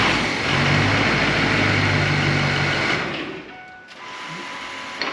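An engine being cranked over during a diagnosis of a bad high-pressure oil pump gives a steady, loud churning drone for about three seconds, then cuts off into quieter background noise.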